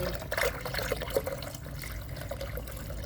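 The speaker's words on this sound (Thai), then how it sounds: "เพิ่มน้ำลงไปค่ะ แม่ทีน้ำใส่ลงไป" Water poured into a container where azolla is grown, with cow manure added, a steady close trickle and splash over a soft background hum, without speech.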